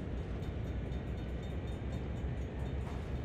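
A simulated train in Train Simulator World rolls along after the throttle is raised, producing a steady, dense low rumble of wheels and engine without pauses or voices.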